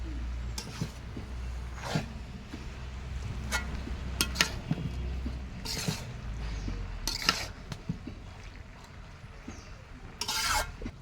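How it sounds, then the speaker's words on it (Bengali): A spoon scraping and rasping through fish and vegetable curry with potato, aubergine and radish in a pot, a series of close, uneven scrapes and metallic clinks with a low steady hum beneath. "এখন দিয়ে দিব এই যে মাছগুলা, ভালো করে নাইড়ে চাইড়ে মিশিয়ে নিব"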